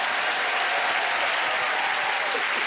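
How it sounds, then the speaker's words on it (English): A studio audience applauds a contestant on a quiz show, a dense, steady wash of clapping that fills the whole stretch without a break. "Ladies and gentlemen, please, a round of applause for James!"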